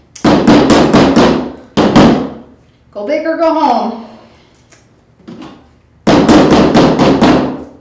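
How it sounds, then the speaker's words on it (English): Hammer strikes on a craft pattern come in quick loud bursts of sharp metallic taps, with a spoken phrase between the groups and further rapid hammering at the end. "we're gonna keep hammering on this"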